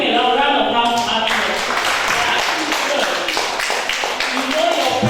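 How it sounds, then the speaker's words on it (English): Crowd applause for a child at a kids' independence special event: steady, dense clapping from many hands throughout, loud and close, with voices mixed in underneath. "Give him a round of applause"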